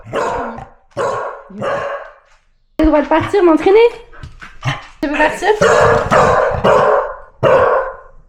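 A dog barks sharply in repeated bursts, close and loud, with whimpering yips between, while someone talks over and between the barks.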